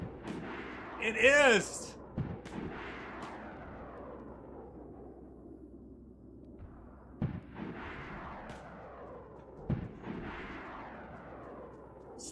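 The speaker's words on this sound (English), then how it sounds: "We're trying to shoot the paratroopers down." Bursts of gunfire aimed at paratroopers in the survival game DayZ, sharp reports spaced irregularly over a steady low rumble, with a brief voice and an electronic warble early on.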